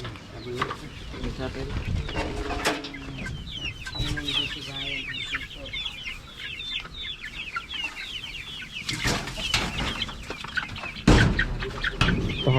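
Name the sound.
Rhode Island Red chickens clucking while being fed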